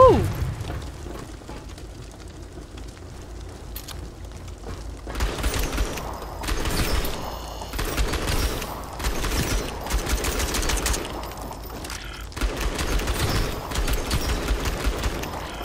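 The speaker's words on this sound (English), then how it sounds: "Oh, that's bullets." Sustained automatic gunfire from the sci-fi shooter Outpost: Infinity Siege, loud bursts repeating almost continuously after a quieter opening, with a voice talking underneath at times.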